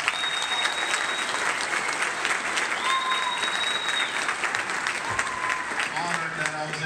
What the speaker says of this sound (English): can we get another hand of applause for Mr. Steele and his band?